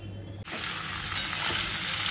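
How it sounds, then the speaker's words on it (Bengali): Pointed gourd curry sizzling and frying in a pan, a steady loud hiss that starts abruptly after a quiet moment and continues without talk. "রান্না বসিয়ে দিলাম, মাখা মাখা করে একদম পটলের তরকারি করব।"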